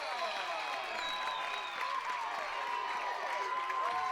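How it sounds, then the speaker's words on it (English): A baseball crowd at a college game cheers and claps steadily after a two-run home run, a broad continuous roar of applause with a voice audible underneath. "That gets the crowd going."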